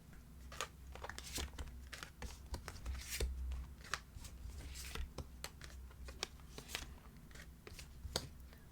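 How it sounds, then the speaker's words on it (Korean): Tarot cards are drawn and shuffled by hand: soft irregular riffles, slides and crisp snaps of card stock close up, with a faint low hum underneath. "여러분 그러면 좀 더 여기 디테일로 추가 카드 한 번 더 뽑아볼게요"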